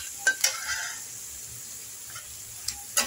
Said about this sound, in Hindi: तो हम लोग इसको पहले फ्राई कर लेते हैं, अनियंस और ये गरम मसाले और रेड चिली सभी को हम लोग फ्राई कर लेते हैं पहले